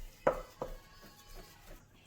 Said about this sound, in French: Et je vais encore écraser pour mélanger.